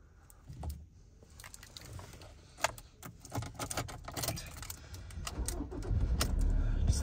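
Keys for a 2020 Mazda BT-50 pickup jangle and clink in short irregular bursts up close, followed by a rising rumble and interior shuffling toward the end; no talking.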